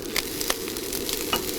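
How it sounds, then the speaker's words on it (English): Wilted greens and herbs fry in a frying pan outdoors, a close steady sizzle with short bursts of stirring and scraping at irregular moments. "we're just going to literally fry it off in my frying pan over here"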